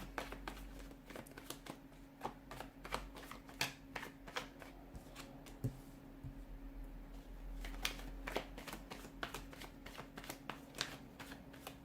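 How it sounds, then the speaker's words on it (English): Tarot cards are shuffled repeatedly, with crisp riffling bursts and soft slaps over a low steady hum. "let's give the cards a shuffle and let's begin"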